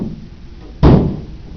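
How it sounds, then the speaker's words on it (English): A single door shuts with a solid thud, loud and close, standing out sharply from a quiet room tone and fading over a second. "I'm going to close one door."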